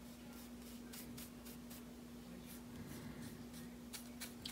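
Pen or marker strokes coloring a drawing on paper, a soft continuous scratching with brief repeated rubbing bursts under a steady low hum, close and quiet.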